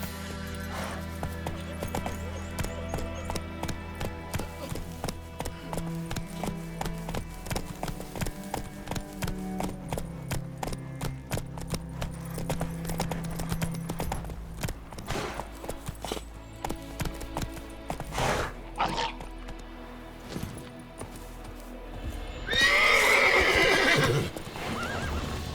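Roach, a horse in The Witcher 3 video game, walks with steady clip-clop hoofbeats over a layered game soundtrack, then lets out a loud, close neigh near the end.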